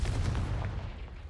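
A Confringo fire spell bursts in Hogwarts Legacy gameplay, a short booming blast with a rumbling low-end tail that fades over about a second.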